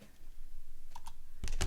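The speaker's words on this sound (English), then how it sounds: "Oh, I can control this from my keyboard." A few keystrokes on a computer keyboard, brief clicks clustered near the end of a short, otherwise quiet stretch with faint room noise.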